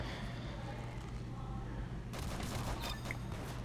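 Video game gunfire in Roblox Arsenal, with a steady noisy bed of shots that turns into denser, sharper bursts in the second half, fairly close.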